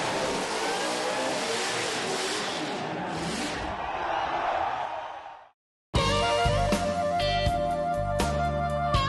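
A Holden HC ute doing a burnout at a Summernats burnout competition, with a loud sustained engine roar and crowd noise that cuts out abruptly, then comes back with a sharply revving, stuttering engine at high pitch.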